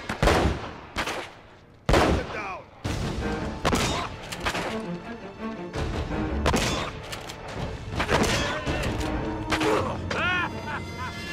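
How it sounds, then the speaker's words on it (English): Video game gunfire in Uncharted: Drake's Fortune: sharp shots and rapid bursts crack out in uneven clusters, loud and close, with a player's voice and game voices talking over the action. "Why won't he shoot the gun faster?"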